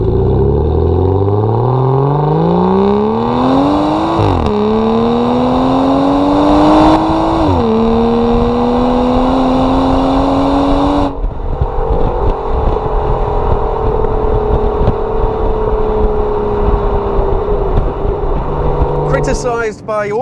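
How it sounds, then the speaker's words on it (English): An Aston Martin DB9's V12 engine pulls hard uphill through rising gears, pitch climbing steadily with brief shift dips, loud and close from inside the cabin. "It's got that V12, and we're going to do a pull up the hill now."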